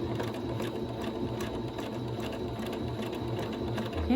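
A sewing machine stitches over a buttonhole on a man's shirt, a fast, steady mechanical whir and needle patter, close and continuous, with no talking.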